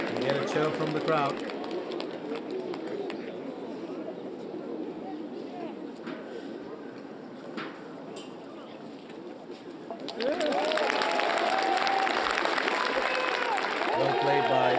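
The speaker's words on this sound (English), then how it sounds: "You get a cheer from the crowd." Spectators at a women's professional golf tournament, the KLPGA WEMIX Championship in Korea, break into a loud cheer and applause that swells near the end, following quieter stretches of commentary and ambient noise.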